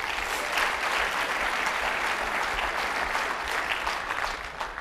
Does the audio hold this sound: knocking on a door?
no